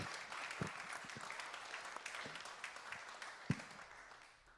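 A church congregation at a Unity Sunday service gives a round of applause for its musicians, scattered, fairly faint clapping with a few sharper claps that tapers off toward the end.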